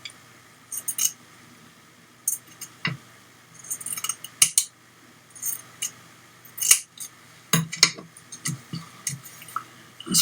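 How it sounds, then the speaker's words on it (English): Scissors snipping a bit off the width of paper for a shabby vintage journal, a series of close, crisp cuts and rustles in irregular bursts with short pauses, no talking. "So it's too wide, so I need to cut a bit off it"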